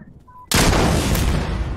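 A rocket launcher fires in the Insurgency Sandstorm video game, a sudden loud blast that swells into a long roaring rush, close and dominant, after a brief quiet moment with faint game tones.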